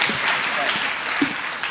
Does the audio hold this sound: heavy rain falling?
no